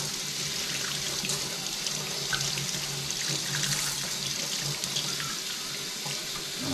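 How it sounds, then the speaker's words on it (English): A tap runs water into a rusty tin can being cleaned, a steady close splashing stream with no talk. "And run water in it"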